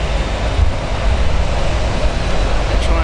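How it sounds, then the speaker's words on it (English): A loud, steady roar of an aircraft engine being started at Zurich Airport, a continuous low rumble with no pauses or voices. "They're trying to start it up."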